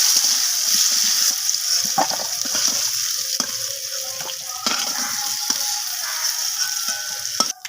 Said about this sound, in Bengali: আমি ওই একই তেলের মধ্যে ফোড়নে দিয়ে দিলাম এখানে কালো জিরে, একটা শুকনো লঙ্কা, দুটো তেজপাতা